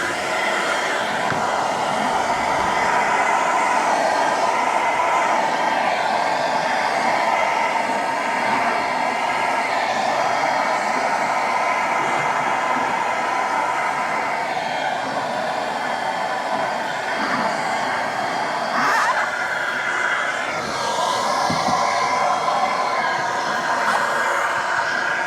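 A heat gun blows steadily to warm a carbon rear diffuser on a Tesla Model 3 so the adhesive bonds, giving a loud, constant airy roar that holds for the whole stretch with small shifts in tone.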